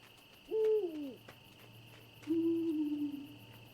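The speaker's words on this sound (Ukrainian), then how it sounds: "Сова гуде?" An owl hoots in the video game Endling: two drawn-out, wavering hoots separated by a pause, set against a faint steady hum of insects.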